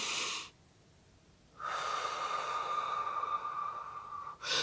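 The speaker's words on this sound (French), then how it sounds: "il faut avoir une respiration profonde." A woman breathes deeply to manage labour contractions: a long, loud breathy exhalation, a pause of near silence, then another sustained blowing breath, close to the microphone.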